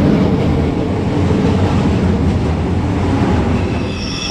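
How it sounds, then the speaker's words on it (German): An ICE 4 high-speed train running on the route from Mannheim toward Ulm, heard from inside as a loud, steady rumble with a continuous rolling roar and faint wheel squeal, with no talk. "Denn heute sind wir mit einem ICE 4 unterwegs"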